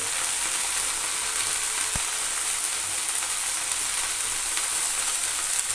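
Red amaranth greens and pre-fried lentil dumplings crackle and sizzle in a pan, a steady close frying hiss with one sharp knock of utensil against the pan.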